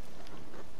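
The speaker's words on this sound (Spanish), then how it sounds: "Está lloviendo." Steady rain falls in Tom Clancy's The Division 2, a soft, even hiss of drops on surfaces with no voices, heard only briefly.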